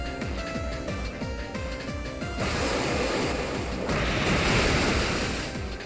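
Waterfall attack in competitive Pokémon X & Y: a loud rushing surge of water crashes in partway through, swelling into a dense roaring wash over the game's background music, with no talk.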